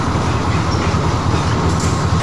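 A locomotive hauls a derailed train during a shunting recovery, its rail noise loud and continuous with a steady clickety-clack of wheels over the track and a dense rumble throughout.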